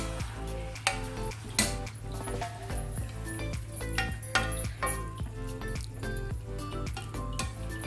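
A spoon scraping and clinking against a pot while pumpkin kheer is stirred, irregular metallic knocks over a steady low hum and background tones.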